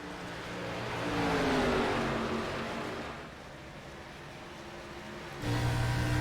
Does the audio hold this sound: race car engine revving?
yes